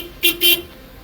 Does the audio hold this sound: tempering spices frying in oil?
no